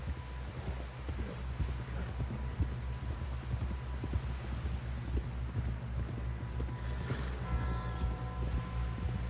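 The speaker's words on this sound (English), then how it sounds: "Someone help John down off this horse." Steady clip-clop of horse hooves at a brisk gait in the video game Red Dead Redemption 2, continuous and fairly close, over a low ambient rumble with faint background voices.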